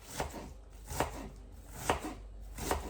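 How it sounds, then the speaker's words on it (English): A knife chops onions finely on a board, four distinct chops spaced about a second apart, close and clear with no talking. "Again, I do the onions nice and fine,"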